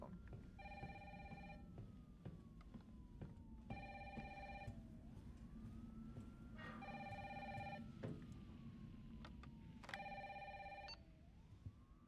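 A phone rings in Resident Evil 3 Remake, four evenly spaced electronic ring bursts over a low droning game ambience, alone with no talk.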